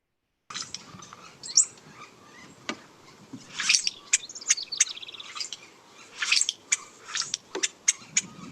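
A female bird sings alone in short bursts of high, metallic chirps and buzzy trills, separated by brief pauses against a quiet background, at a meadow's edge.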